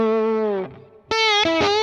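Slide guitar played with a narrow, fast vibrato: a sustained distorted note wavers quickly, breaks off briefly, then returns for two more shimmering phrases, loud and close.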